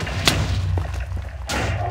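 Two heavy dull booms from creeper explosions in Minecraft, played on an advanced creepers map, with a softer thud between them and no talk.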